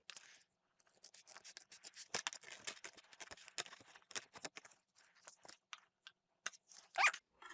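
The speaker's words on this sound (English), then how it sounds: "go ahead and cut it by holding this down and using that as your guide" Scissors snip through paper for a DIY A5 double-pocket folder, cut along a guide piece; a run of quiet, irregular crisp snips and rustles ends in a louder final cut.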